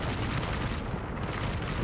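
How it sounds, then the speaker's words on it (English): A video game airstrike rumbles and booms as one continuous, heavy, broadband roar of explosions, sustained and dense for the whole moment, with no voices over it. "Airstrike!"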